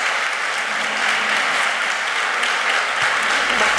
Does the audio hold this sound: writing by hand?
no